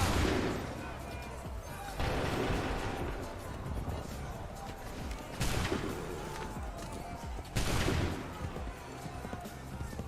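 Volleys of musket gunfire in a battle in Assassin's Creed 3, with several loud broadside bursts a few seconds apart, each decaying into rumble over a constant background of battle noise.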